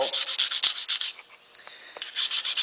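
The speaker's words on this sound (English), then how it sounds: "I'm going to bring that high spot down just by filing" A hand file worked across a high spot on stainless steel trim, rhythmic rasping strokes in quick series, pausing briefly midway and then resuming, close and fairly loud.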